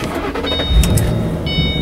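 A manual-transmission car engine cranks briefly and catches, settling into a steady idle close by, with a faint electronic chime running over it.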